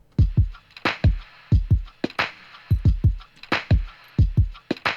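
An original hip hop sample-pack drum loop, punchy, with booming, pitch-dropping kicks and bright snare cracks repeating in a steady groove, with no voices.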